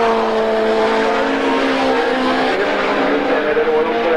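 Ford Sierra RS Group A race cars roar past on the Anderstorp circuit during a 1991 Swedish championship round, a loud sustained engine drone with tyre noise and faint commentary mixed in.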